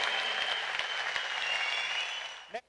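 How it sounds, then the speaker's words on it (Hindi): Audience applause at a network marketing seminar, a dense, even wash of clapping that holds steady, then fades and ends abruptly. "बजानी है तो जोरदार तालियां बजाना उनके लेवल की"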